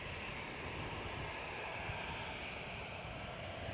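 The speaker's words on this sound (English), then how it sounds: "it's a Lufthansa from Frankfurt." A Lufthansa airliner from Frankfurt passes at Edinburgh Airport, a steady, fairly quiet engine roar with broadband rumble holding evenly throughout, no talk over it.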